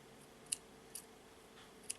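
Scissors snip thread while a cowrie shell necklace is finished, three sharp, faint clicks spaced out over quiet room tone.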